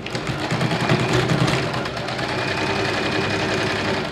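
A sewing machine stitches the front hook piece onto blouse fabric, a steady mid-pitched mechanical whir that runs continuously and close by for the whole stretch, slightly busier early on, with no one talking.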